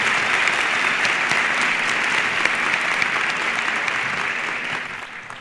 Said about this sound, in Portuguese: Dr. Manuel Dias, uma salva de palmas para ele,